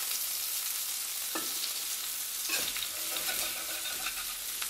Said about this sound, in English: I'm going to sear that side.